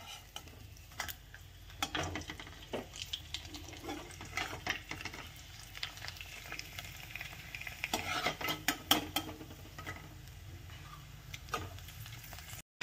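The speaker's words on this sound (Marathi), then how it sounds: "तर चला आता हिरव्या मिरचीचे तळते" Green chillies frying in hot oil, a low continuous sizzle with scattered sharp crackles and pops, close up and without speech throughout.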